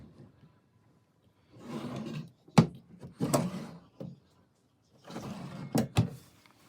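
Drawers under a wardrobe slide open and shut, with rumbling rolling runs and several sharp thuds as they close, close by and moderately loud.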